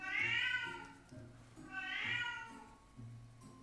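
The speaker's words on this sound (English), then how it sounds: "The cat needs to stop having a hissy fit right now" A cat gives two long, drawn-out meows with a strained, caterwauling edge, close and fairly quiet, separated by a brief pause and set over faint low rumbling.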